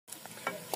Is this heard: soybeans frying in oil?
yes